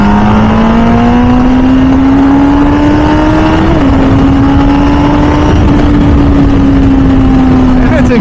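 An MV Agusta F4 Senna motorcycle engine hums loudly at close range while riding through traffic, its steady tone rising gradually as it accelerates, blended with constant wind rush.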